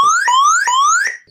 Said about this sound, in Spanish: te hace un aviso como diciendo que hay alarma aquí en este vehículo